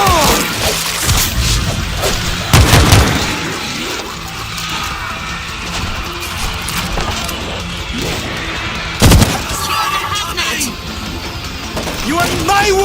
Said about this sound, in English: Heads up! Grenade out!